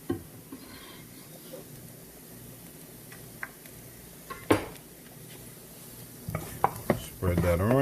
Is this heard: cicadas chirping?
no